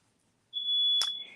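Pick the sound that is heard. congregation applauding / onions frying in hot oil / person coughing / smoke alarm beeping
smoke alarm beeping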